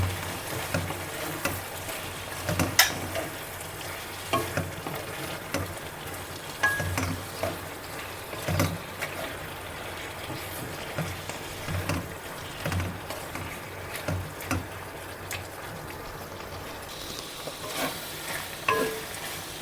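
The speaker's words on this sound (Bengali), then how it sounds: "আমাকে এটাকে কষাতে হবে যতক্ষণ না জলটা শুকিয়ে যাচ্ছে" Bottle gourd with prawns cooks down in a pan, a moderate continuous sizzle broken by frequent rhythmic scraping and knocking as it is stirred, with no talking.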